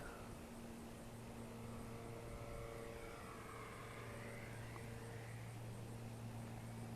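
A small Eachine Mini Cessna RC plane with a 550mm wingspan and a brushed motor flies overhead, making a thin, steady whining drone at moderate distance against a constant hum outdoors.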